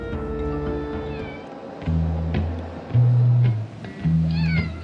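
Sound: cat meowing in the Hermitage museum

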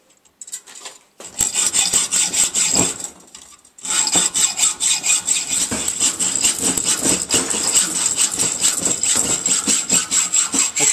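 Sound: hacksaw cutting off the end of a threaded bolt

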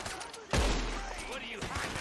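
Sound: gunfire in the Red Dead Redemption 2 video game

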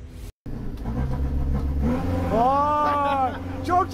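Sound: minibus engine revving, throttle blip while driving

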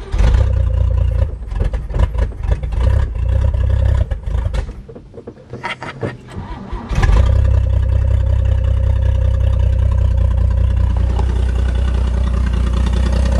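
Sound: old car V8 engine idling, straight exhaust

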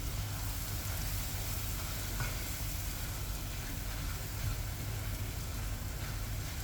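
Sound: sweet potato sautéing in ghee

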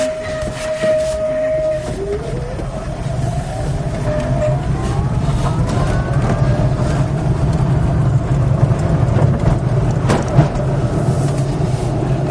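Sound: road noise inside electric converted car while driving

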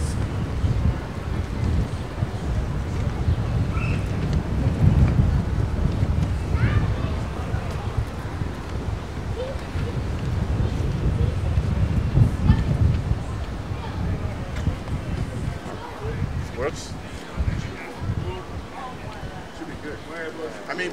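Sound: wind blowing into the microphone outdoors

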